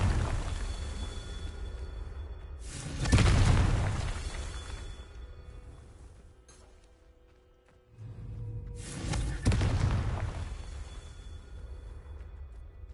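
Blasting-spell explosions in Hogwarts Legacy, with two muffled, booming blasts several seconds apart, each swelling and then fading into a low rumbling ambience.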